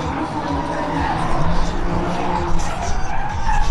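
A supercharged car with a big ProCharger skids at an import face-off event, a loud continuous roar of engine and tire noise with crowd sound around it.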